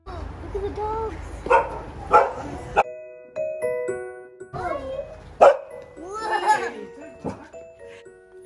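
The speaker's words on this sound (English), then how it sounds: "These are Golden Retrievers." Golden Retrievers at a veterinary practice, with short barks scattered among lively voices, a child's excited chatter and laughter, close and fairly loud, broken by a brief quiet gap.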